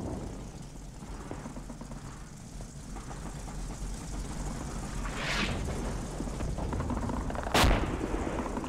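Artillery spotting rounds landing in Combat Mission Fortress Italy, a rumbling battlefield bed with a distant muffled burst midway and a sharp, louder impact near the end.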